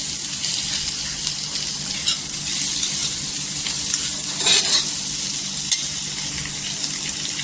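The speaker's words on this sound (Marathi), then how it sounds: "लसूण पण छान अशी ह्याच्यामध्ये भाजून घ्यायची।" Garlic and ginger roasting in oil in a pan for masala, a loud continuous close sizzle with faint stirring, steady throughout with no talk.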